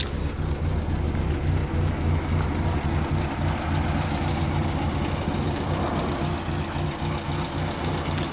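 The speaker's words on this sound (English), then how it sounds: "It's the 948cc engine." A 1957 Morris Minor 1000's 948cc engine idles steadily nearby, a constant low, even throb with light mechanical chatter and no change in pace throughout.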